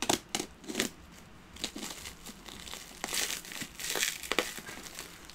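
A package being unwrapped, soft crinkling and rustling of wrapping with scattered small taps and crackles, quiet and close, alone without speech.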